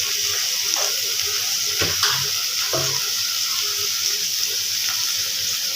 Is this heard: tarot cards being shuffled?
no